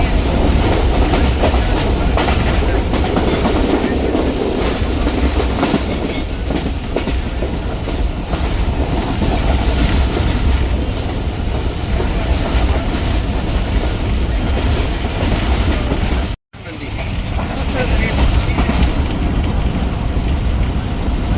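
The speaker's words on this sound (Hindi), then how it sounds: "ये 100-105 इसी स्पीड से चल रही है ट्रेन हमारी।" A Subak Raftar railcar train runs along the tracks at about 100 km/h, a loud, continuous rushing roar with rhythmic clatter of wheels, heard from inside, broken by one brief gap.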